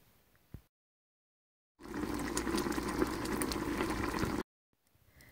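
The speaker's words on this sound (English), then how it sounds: "After you have brought your berries to a boil on high heat, reduce heat." Blackberries boiling in a pot on high heat for jelly, a steady bubbling roil that starts abruptly after a brief silence, holds for a few seconds at moderate loudness, then cuts off.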